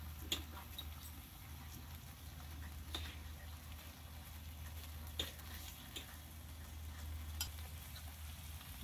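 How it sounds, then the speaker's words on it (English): Bacon frying on a griddle with soft steady sizzling and occasional faint pops and ticks, low and continuous throughout. "so I just fry up some more bacon"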